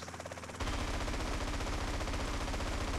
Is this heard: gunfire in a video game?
yes